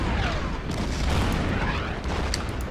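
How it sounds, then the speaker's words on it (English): Artillery fire in the World War II strategy video game Order of Battle, a dense rolling barrage of booms and blasts merging into one continuous roar, loud and sustained with no clear gaps. "Let's attack with the artillery."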